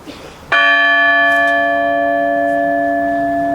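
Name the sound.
new church bell struck by hand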